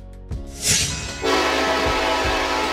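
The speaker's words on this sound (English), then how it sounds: "Passenger train." A passenger train rumbles past with a loud horn blast that rises and holds over steady rolling rail noise.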